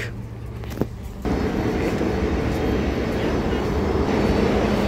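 Steady low rumble of a train at Varna central railway station, with a brief clank early on before the engine noise swells and holds loud and constant.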